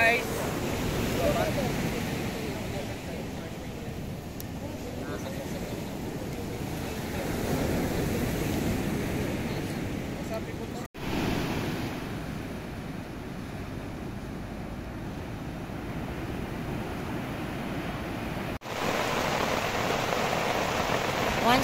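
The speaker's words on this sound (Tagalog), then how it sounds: "lakas ng ulan sa labas." Heavy rain pours steadily outside at night at a motocamp in Dilasag, Aurora, a dense continuous hiss with wind-like roar, briefly interrupted by a couple of short cuts.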